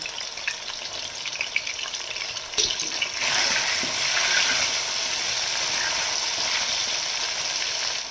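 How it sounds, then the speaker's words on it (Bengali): Potato pieces fry in oil with salt and turmeric, a soft sizzle that swells into a louder, steady hiss after a brief clatter partway through, close and without talk. "আলুগুলোকে প্রথমে আমি ভেজে নেব।"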